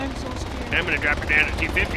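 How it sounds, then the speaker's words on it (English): Helicopter in the military video game Project Reality, a steady low rotor rumble running throughout beneath talking voices, with a brief burst of higher-pitched mechanical noise near the middle. "Sounds like a helicopter."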